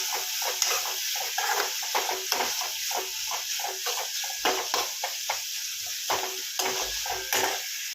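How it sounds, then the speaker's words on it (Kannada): Tomato frying in a pan for village-style tamarind chitranna, a steady close sizzle broken by frequent scraping stirs, with no talk. "ಟೊಮೊಟೊ ಹಾಕಿ ನೀಟಾಗಿ ಫ್ರೈ ಮಾಡಬೇಕು"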